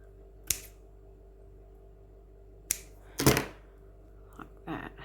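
Scissors cut a thin crochet trim ribbon, giving a couple of sharp, isolated snips and then a louder crunching cut, followed by faint handling sounds in a quiet room.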